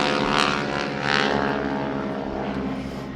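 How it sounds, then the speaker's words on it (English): Cornelia Fort's vintage propeller airplane, shown at a warbird event remembering Pearl Harbor, runs its engine loudly and steadily, a close, continuous droning roar with a slight pulsing throb. "this airplane will always get gas because this is Cornelia Fort's airplane"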